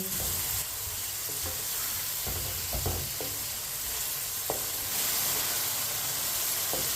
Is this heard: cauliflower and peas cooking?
yes